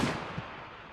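A grenade explodes in the mobile shooter COD Mobile, one short blast that fades quickly into a rumbling tail, heard alone at moderate volume.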